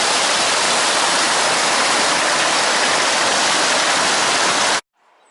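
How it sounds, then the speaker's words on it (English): A tumbling stream in North Wales rushes in a steady, loud, broadband roar of close water that runs unbroken for nearly five seconds, then cuts off abruptly into near silence. "Anywhere you pretty well go in North Wales, you get these tumbling streams."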